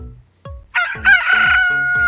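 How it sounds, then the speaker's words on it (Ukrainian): A rooster crows once, loud and close, a long rising cock-a-doodle-doo ending in a sustained note. "Давайте пригадаємо, як співає півник."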